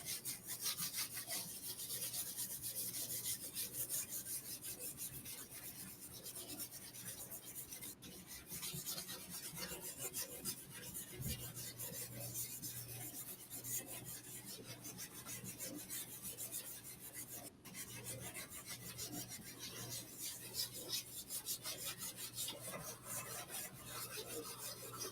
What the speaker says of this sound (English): I'm gonna scrub with this first, just a little bit, just to get some stains off